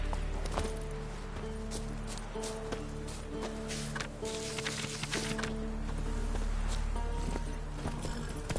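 Roach, a horse in The Witcher 3, galloping with quick rhythmic hoof clops over game music and ambience, fairly close and steady throughout.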